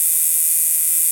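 A 150-year-old electric tattoo machine with a single spring, powered up and running as a steady, high-pitched electric buzz that holds evenly throughout, with no voices.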